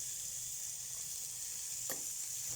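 Meat frying in a dry pan with no added fat gives a steady, faint sizzle that runs unbroken, with one brief scrape near the end.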